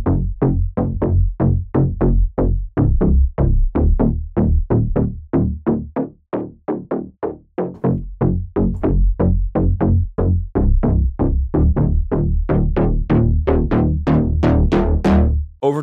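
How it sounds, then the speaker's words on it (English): A synth bass preset named White plays a long run of punchy, evenly pulsed low notes, loud and upfront with no voice, the tone brightening toward the end. "the last bass I'm going to show you is called White, and it's a really nice white bass"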